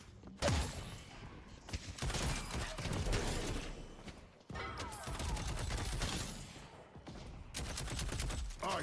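Rapid gunfire from the Deadlock hero shooter game: loud, sustained automatic bursts broken by a few short pauses, with a faint voice now and then beneath the shots.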